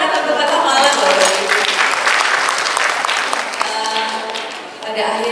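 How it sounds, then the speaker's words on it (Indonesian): A civic audience in Malang claps for the city at a government statistics forum: loud, dense applause with occasional voices in it, dipping briefly near the end before a speaker carries on. "Boleh tepuk tangan untuk Kota Malang loh"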